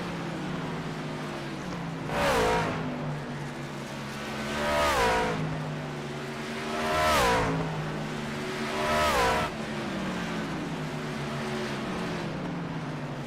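Race trucks circle Nashville Fairgrounds Speedway in a steady engine roar, with four loud passes sweeping by at regular intervals, each rising and falling in pitch as it nears and recedes, with no talking over them.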